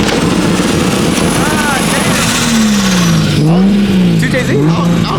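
Car with a Toyota 2JZ engine revving loudly nearby, its pitch rising and falling in a few swells over steady background roar and wind noise.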